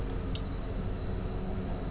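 Steady rolling rumble of an ÖBB Taurus 1016 locomotive slowing under braking in Train Simulator 2020, with a thin sustained high whine and a brief squeal, continuous and even throughout.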